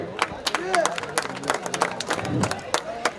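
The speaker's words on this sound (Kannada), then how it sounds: "ಎಲ್ಲರೂ ದಯವಿಟ್ಟು ಚಪ್ಪಾಳೆ ತಟ್ರಿ" Crowd clapping and cheering at a village bullock cart race in Rampur, a dense patter of hands with scattered sharp claps, mixed with crowd babble and a voice over a loudspeaker.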